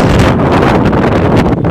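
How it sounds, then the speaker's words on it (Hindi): Strong storm wind roars steadily and loudly across the microphone, with gusting buffeting and rustling of a swaying banyan tree, continuous throughout with no speech. "इतनी तेज हवा भाई"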